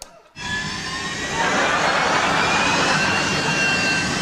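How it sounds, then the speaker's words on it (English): After a click, a bathroom extractor fan switched on with the light starts up and swells into a loud, steady whooshing roar like a jet engine, continuing without pause. "there's the jet engine in your bathroom. It's actually the fan which comes on when you turn on the light"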